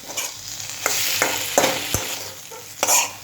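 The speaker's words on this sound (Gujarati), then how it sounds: "બસ હવે બધું ટોસ કરવાનું છે એક સાથે. એક લાઇટ આવી રીતના સ્પૂનથી મિક્સ કરી દઈશું." A spoon tosses aloo gobi with chaat masala in a hot pan, giving repeated scraping strokes and clinks over a constant sizzle, close up with no talking.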